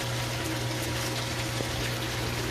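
A water pump in a recirculating aquaculture system runs with a steady hum and continuous rushing water, close and unbroken throughout. No one talks.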